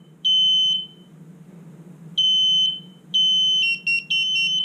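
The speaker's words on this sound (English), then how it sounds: "Beeper's going off right now. This thing's so loud" Newly installed smoke detector tied to a monitoring system sounding its loud, piercing high beeps in repeated bursts, with a second beeper joining near the end over a low background hum.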